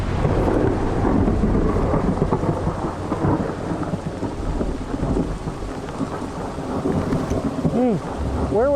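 Thunder rolls through a rainy storm out on a lake during a bass fishing tournament, a heavy sustained rumble over steady rain that swells and lingers across the whole stretch.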